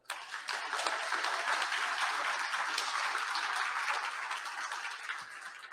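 An audience at a 2021 tribunal opening applauds, a sustained, fairly soft wash of clapping that holds steady for about five seconds before easing slightly.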